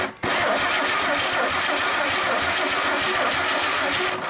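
An old 1957 Chevy engine, not run in years, cranks briefly, then catches and runs at a loud, rough idle, close by.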